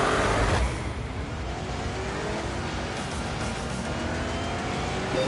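A BMW M5 sports saloon in a racing video game roars at sustained high revs, its engine note rising and shifting steadily with a brief louder burst at the start, with no talking.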